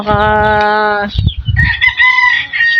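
A rooster crows loudly and close by on a rural property with chickens, followed by scattered clucking and other fowl calls in the background.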